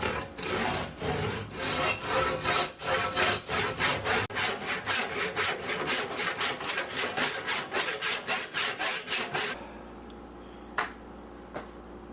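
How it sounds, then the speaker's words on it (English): A saw rips a long cut through wood, guided by a clamped strip of hardboard, while making blocks for a DIY ukulele strap attachment. Steady rhythmic strokes run loud and close for about nine seconds, then stop, leaving quiet room noise. "to do this long rip here, and I've clamped a piece of hardboard to guide the saw"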